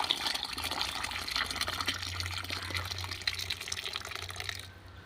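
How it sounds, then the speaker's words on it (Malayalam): Water pours steadily over cow dung to make a slurry, a continuous close splashing gush with a low hum beneath that fades out at the end. "നിറയെ വെള്ളം ഒഴിക്കുക"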